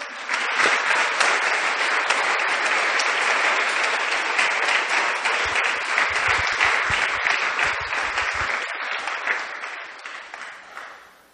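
Congregation applause in a church service, dense sustained clapping from a large group that stays strong for most of the stretch, then gradually thins out and fades toward the end.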